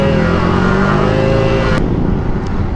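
A Grandio 90cc touring-set motorcycle rides along a road in North Caloocan, its engine droning steadily and loudly up close with wind rush, the pitch easing slightly partway through.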